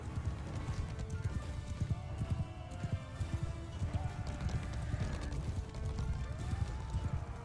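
Horses gallop across a battlefield in Mount & Blade II: Bannerlord, with dense, continuous clip-clop hoofbeats close by and occasional whinnies rising above the thudding hooves.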